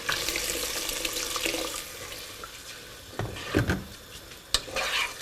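Water poured into a pot of rice sitting over fried herbs, garlic, chilies and onions, a close splashing trickle at first, then quieter stirring with a few sharp clinks and knocks.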